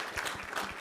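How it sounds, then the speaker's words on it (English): Brief burst of applause from a press conference and weigh-in crowd, steady clapping at moderate level for under a second with no speech over it. "let's get one more round of applause for everybody involved"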